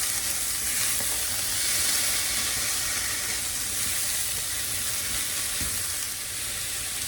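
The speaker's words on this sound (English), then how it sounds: "Just gonna kind of saute it for about 4 minutes until those onions are translucent and the rest of the veggies are heated through." Lima beans and fresh onions sauté in a pan with a steady, dense sizzle that runs unbroken throughout at close range, with faint stirring scrapes and no talking.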